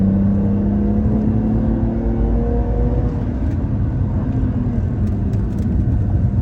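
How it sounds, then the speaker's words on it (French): A race car accelerates on a circuit during a driving lesson, its engine tone rising steadily and close under a continuous loud drone from inside the cabin. "Elle réaccélère dans le creux."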